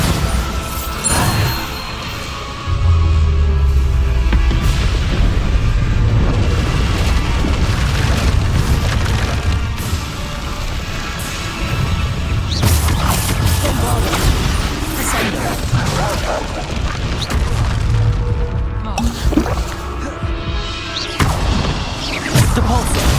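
Bombarda explosion spells blast repeatedly in Hogwarts Legacy combat, loud booming crashes and smashing impacts over a dense, chaotic battle mix, with a voice occasionally speaking.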